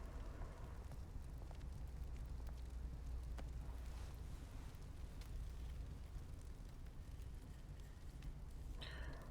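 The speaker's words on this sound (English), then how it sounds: "A burning barrel." A burning barrel fire in the Telltale Batman video game gives a steady, low roaring rumble with faint crackles, continuous and fairly quiet throughout.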